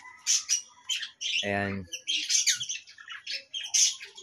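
Cockatiels at a breeder's aviary squawk in repeated harsh, close calls across the whole stretch, with one short spoken word in the middle.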